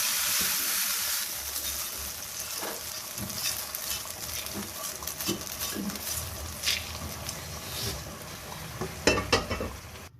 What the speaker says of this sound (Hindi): और ये तड़का मैं चिकन पे डालने लगी हूँ।